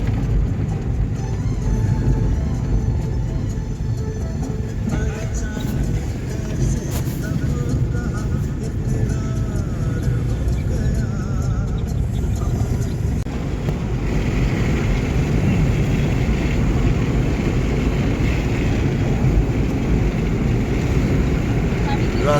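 A car travels on a winding hill road with a 40 speed limit, its steady engine and road rumble continuous and fairly loud throughout, while a voice speaks over it.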